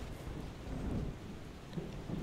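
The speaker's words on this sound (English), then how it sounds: "When the storms roll in," Thunderstorm in the game FAR: Changing Tides: steady rain hiss with a deep low rumble of thunder swelling and fading, continuous and fairly loud, with no voices.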